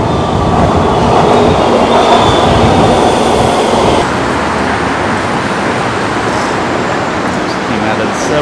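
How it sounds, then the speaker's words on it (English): A Los Angeles subway train rides along with a loud, constant rumble of wheels and rail noise, the roar shifting in tone midway, heard close from inside the car. "Hop a subway train down there"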